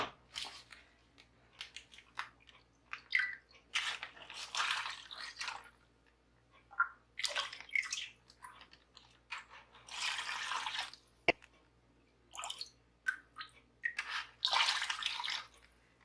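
Homemade turkey stock is poured into quart freezer bags in a kitchen, giving repeated short bursts of splashing, trickling liquid separated by quiet pauses, with a single sharp knock partway through.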